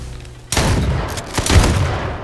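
Shotgun blasts ring out in the battle royale game H1Z1, two sharp loud reports about a second apart, the first followed by a rattling burst, close and without talk.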